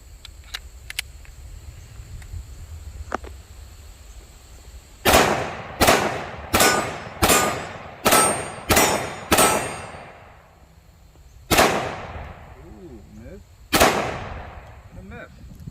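A SIG 1911 Nightmare Carry Fastback in .357 SIG fires nine Gold Dot rounds at steel targets: a quick string of seven loud sharp cracks, then two more spaced shots, each ringing off into echo outdoors.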